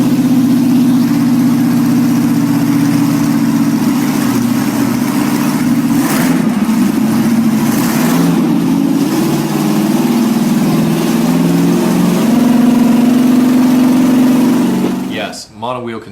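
A V8 engine on a mono wheel vehicle runs loud and steady in a low droning rumble with slight revving swells, then cuts off abruptly near the end.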